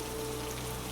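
Steady rain falling on a surface, an even, continuous hiss of dense drops with no break, close and moderately loud.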